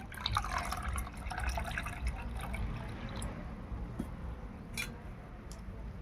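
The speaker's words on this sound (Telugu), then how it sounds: "మిగతా వాటర్ పోసుకోవటమేనండి" Water is poured into a sugandha drink sweetened with honey: a soft, quiet trickle with a few light drips and splashes, close by and alone.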